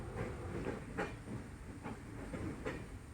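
A passenger train rolls along the Sakleshpur route toward Dharmasthala, a quiet, rumbling interior drone with faint periodic clickety-clack wheel beats and no voices.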